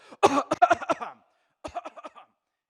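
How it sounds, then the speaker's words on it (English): A close burst of several rapid, forceful coughs, a short pause, then a softer run of hacking coughs. "if I have a healthy, strong cough"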